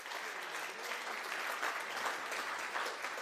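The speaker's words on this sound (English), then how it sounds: "let's give them all a round of applause as well" Guests at a county GOP annual dinner applaud the dinner committee, a steady, fairly distant wash of many hands clapping throughout, heard alone without talk.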